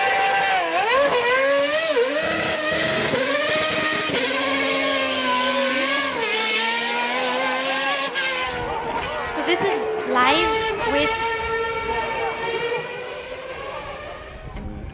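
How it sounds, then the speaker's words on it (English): A Mini Cooper car whines loudly through a played video, its shifting engine tones running continuously while someone speaks over it. "I'm not going to talk over the whining car."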